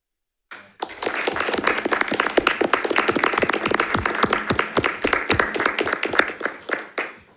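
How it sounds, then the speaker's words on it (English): At a school district board meeting, an audience gives steady applause after a student's speech. The clapping starts abruptly, stays dense and even for several seconds, then tapers off near the end, with no talking over it. "we applaud you and we appreciate you"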